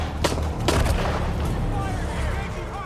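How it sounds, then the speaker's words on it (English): A grenade blast amid combat gunfire in Shadow of the Tomb Raider on PS5, with sharp booming bursts early on over a dense, continuous roar of game battle noise. "Oh, that was a grenade."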